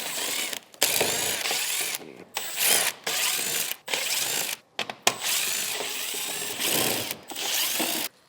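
Ratchet wrench spinning off 10mm bolts along the front bumper of a BMW G80 M3, loud rapid clicking bursts repeated in several runs with brief pauses between them, close up and alone.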